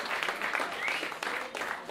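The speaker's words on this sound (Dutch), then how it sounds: "Geef ze een hard applaus." Audience applause after a Montessori College school performance, steady dense clapping that holds for the whole moment without pause.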